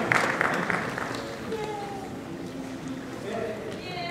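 An audience at a MAGFest comedy performance claps at a false ending, a burst of applause that is loudest at the start and then tapers off into a lower murmur of crowd noise.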